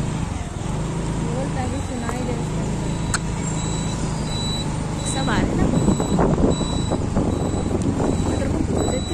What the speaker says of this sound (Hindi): यहीं पे हम अपनी गाड़ी पार्क करेंगे।